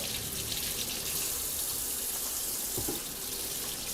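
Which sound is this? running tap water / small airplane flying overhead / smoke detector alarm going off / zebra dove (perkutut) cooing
running tap water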